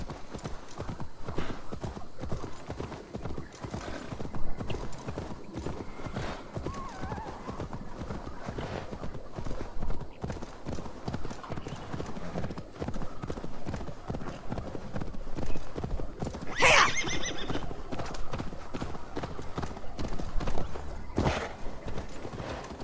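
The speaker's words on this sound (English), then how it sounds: "Using this horse." A horse in the Assassin's Creed Valhalla video game galloping with fast rhythmic hoof clip-clops throughout, one sharp neigh partway through, and a voice talking intermittently over it.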